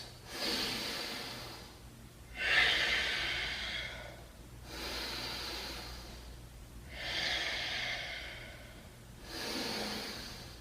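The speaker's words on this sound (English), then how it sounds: "Give me 5 good breaths." Slow, deep yoga breaths held during a warrior pose sequence: five long, airy inhales and exhales in a steady rhythm, close and fairly quiet, with no talking.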